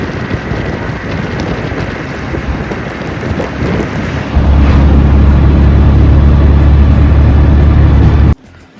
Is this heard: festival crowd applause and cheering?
no